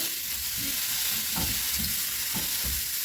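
Mushrooms frying in a dry pan, a steady close sizzle and crackle with periodic scraping stirs of a utensil through the pan, continuous throughout with no speech.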